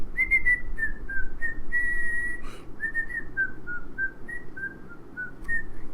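A person whistles a simple wavering tune in short phrases, moderately close and fairly quiet, over a steady low background hum with no talking.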